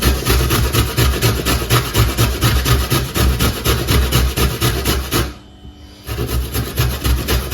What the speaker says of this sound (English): let's try to grate it into small pieces